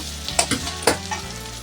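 Water going into a hot pan of sautéed masala for an egg-based curry gives a close sizzle with a few sharp splashy bursts and clinks, then a settling hiss.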